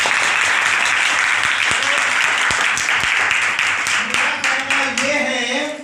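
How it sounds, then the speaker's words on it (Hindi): Audience applause in a marketing meeting hall in Pratappur, Chatra, a dense burst of many hands clapping close by, sustained and loud before tapering into scattered claps at the end. "ताली बजाइए इन लोगों की।"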